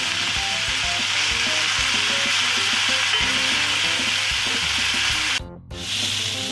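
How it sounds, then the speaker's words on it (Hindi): Cauliflower florets frying golden in oil for aloo gobi produce a loud, dense, continuous sizzle close up, with a short dip in sound near the end. "ये देखिए गोभी फ्राई हो गई है"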